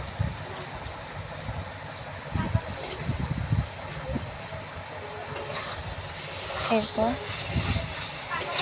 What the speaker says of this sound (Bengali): এরপর আমি ওলগুলো ওর মধ্যে দিয়ে দেবো, ওল কাটা ওলগুলো দিয়ে দেবো।